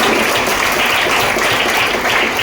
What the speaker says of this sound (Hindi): सर के लिए जोरदार ताली दीजिए।